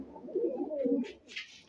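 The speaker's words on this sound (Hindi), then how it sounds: "बहुत सारे कबूतर है दोस्तों।" Punjabi blue-bar high-flyer pigeons in a breeder's lot coo softly nearby, a low throaty burble followed by a couple of brief higher flutters.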